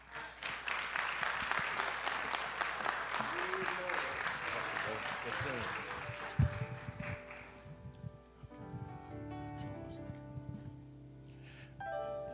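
An audience in a church claps in loud sustained applause with some cheering, which fades after about eight seconds into keyboard notes and quieter sounds.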